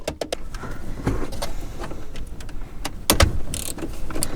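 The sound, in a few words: unscrewing 10mm bolt holding Toyota Camry head unit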